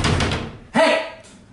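A door on a house interior being banged on with a heavy thud, a short burst of impact followed by a louder, ringing bang, with shouting voices nearby.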